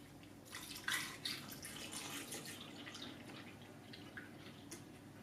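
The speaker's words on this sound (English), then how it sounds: "I'll pour in my milk." Milk poured into the jar of an Oster Versa Performance blender holding fruit, a soft, close, continuous liquid splashing and trickling at low volume, alone without talk.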